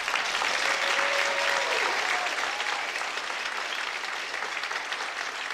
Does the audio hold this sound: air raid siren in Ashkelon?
no